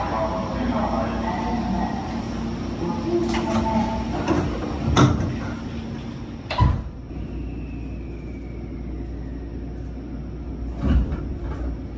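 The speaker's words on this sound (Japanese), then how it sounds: "19時10分、列車敦賀駅を出発していきます。" A limited express train pulls out of Tsuruga station in the evening, a low steady rumble with a few sharp clunks and a faint rising whine, heard from onboard or the platform alongside ambient station noise.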